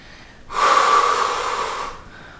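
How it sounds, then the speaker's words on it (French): A single long, forceful exhalation from a person during a floor-based circuit-training exercise, rising quickly, holding steady for about a second and a half, then fading, with no talking. "Je respire."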